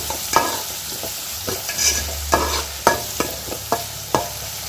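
Onions sautéing in a pan for a lunch dish, a continuous close sizzle punctuated by brisk, regular scrapes and knocks of a spoon stirring against the pan.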